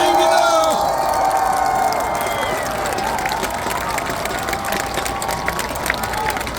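A large outdoor crowd at a campaign rally in Sejong roars and cheers as a speech begins, starting with a loud surge of voices and whistles that settles into a sustained, slightly fading din with scattered shouts.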